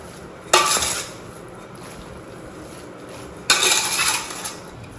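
Salted minced meat goes into a pot to boil, with two sharp clattering, scraping bursts of metal against the pot about three seconds apart over a soft background hiss.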